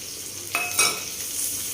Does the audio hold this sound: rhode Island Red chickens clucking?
no